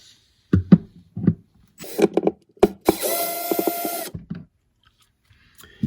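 A screwdriver backs Phillips head screws out of a Samsung freezer panel during repair, giving close ratcheting clicks and scraping bursts with a longer grinding stretch and quiet gaps between.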